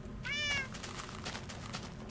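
A single short cat meow from Minecraft rings out near the start, clear and close, followed by soft ambient game noise and scattered light clicks.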